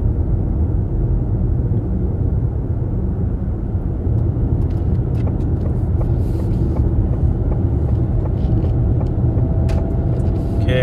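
Ford Mustang Mach-E electric SUV merging onto the interstate, a steady loud road rumble and tyre drone with cabin noise, continuous throughout without talk.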